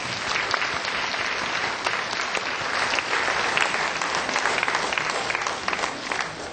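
Audience applause after a stage performance by two performers, a dense, steady wash of clapping that holds at an even level from start to finish with no voices over it.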